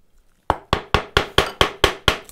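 Chisel struck with a mallet to remove waste wood down to a stop cut for a hand-cut pocket hole joint in a window, giving eight sharp, evenly spaced woody knocks close up with no talk.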